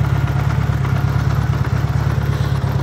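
A 1980 Honda Goldwing GL1100 engine idles steadily on choke, a close, even low rumble with light mechanical clatter running throughout without pause.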